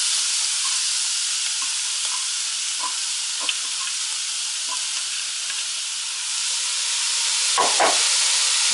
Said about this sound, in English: at this point we add the shredded acorn squash that we just grated